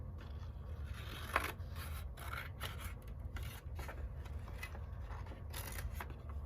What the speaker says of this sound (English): Now open it up and cut right down the line.